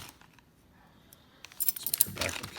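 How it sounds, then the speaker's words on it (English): Backup keys for a U-tec fingerprint touchscreen lever door lock jangle and clink close by in a quiet room, a soft rustle first and then a bright burst of metallic rattling. "And of course, you got your keys."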